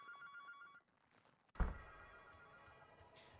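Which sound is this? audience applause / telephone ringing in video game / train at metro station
telephone ringing in video game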